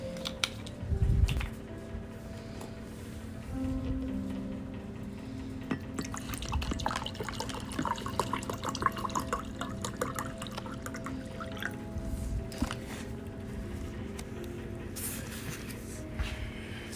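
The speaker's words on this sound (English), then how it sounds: "I'm gonna warm up the water and then mix it in." Water is heated and poured at home for instant tea, with faint trickling, dripping and splashing that builds into a steady pour, close by and quiet, with no talking.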